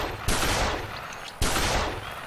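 Gunfire in a Duck Dynasty duck hunting video game: two sharp, loud shotgun-like blasts about a second apart, each followed by a decaying rumble, with no talk.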